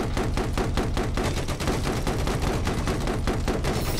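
A heavy machine gun fires in Battlefield 4, a rapid, evenly spaced stream of loud, dense bursts running nonstop throughout.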